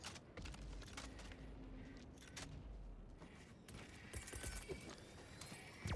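Weapon reload in the co-op shooter Helldivers 2, a run of mechanical clicks and metallic clacks over steady game ambience and distant gunfire, fairly close and moderately loud.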